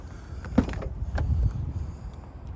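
A 2016 Jaguar F-Type R unlocking as its door handles and mirrors swing out, heard as a brief close mechanical whir with a couple of soft clicks and thumps.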